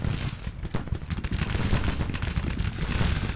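In the Grand Tactician Civil War strategy game, an advancing division fires a musket volley during a battle in the woods: continuous crackling rifle fire that rolls on steadily, with no pause.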